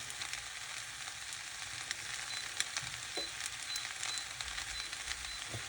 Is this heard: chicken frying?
yes